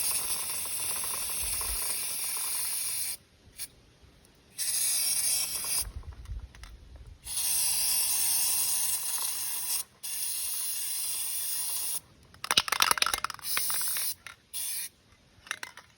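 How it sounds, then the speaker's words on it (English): An aerosol can of degreaser sprays onto a bike chain in several hissing bursts of a few seconds each, separated by silence, with faint mechanical rubbing between; the later bursts sputter unevenly as the can runs low, then runs out. "I will spray the degreaser on the chain"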